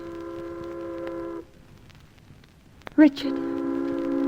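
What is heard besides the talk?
tugs and ships hooting their horns and whistles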